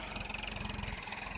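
A tractor engine idles in a field during pigeon pea sowing, a steady, rapid low chugging pulse heard close and fairly quiet in a short burst.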